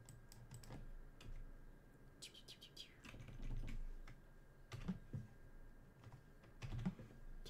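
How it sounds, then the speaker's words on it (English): Computer keyboard typing during a coding session: irregular bursts of close, light key clicks with occasional heavier keystrokes, over a faint steady background, with no talking. "Cannot type nines for some reason."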